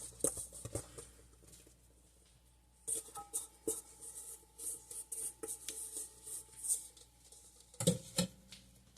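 Plastic wrap crinkles and rustles close by as it is folded around a slab of almond cookie dough, with soft irregular crackles and light taps that come in uneven bursts.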